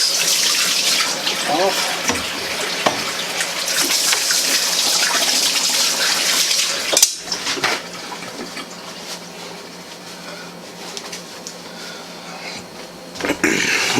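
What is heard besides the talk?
running tap water, washing hands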